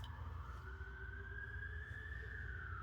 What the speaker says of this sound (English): Those sirens, multiple times a night.